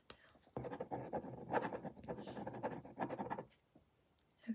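Pen or pencil writing exam notes on paper during a calm ASMR cranial nerve exam, a close, soft run of scratchy strokes lasting a few seconds, with faint whispery breath around it.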